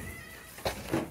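A cat in a goat pen gives two short, faint meows, the second slightly louder, against quiet background noise.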